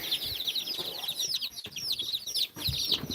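Chicks cluck and chirp nearby in busy, continuous chatter, with some rustling underneath.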